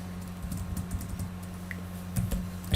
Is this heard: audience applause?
no